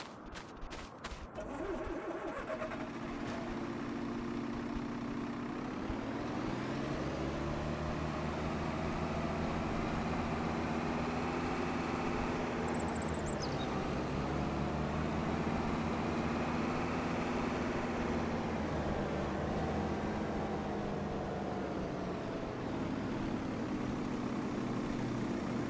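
A tractor engine idles steadily in Farming Simulator 25, a low continuous rumble with slight shifts in pitch and load that runs loud and unbroken from start to finish, with no talk.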